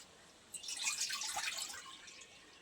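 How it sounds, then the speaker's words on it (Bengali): Water poured into a wok on a stove while making steamed sweet yogurt, a steady close splash that swells for about two seconds and then tails off, with no talking. "কড়াইয়ে জল দিয়ে দেবো,"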